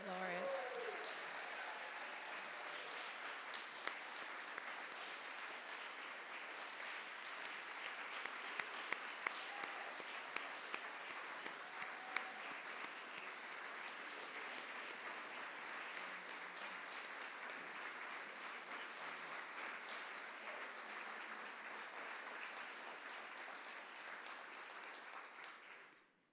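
Sustained audience applause for the Maine Poets Laureate at a celebration event, steady dense clapping from a large crowd lasting over twenty seconds before cutting off.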